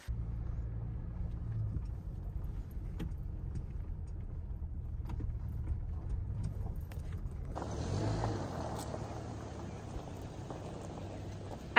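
A truck idles and backs up slowly with a steady low engine rumble, rising in intensity partway through as it moves.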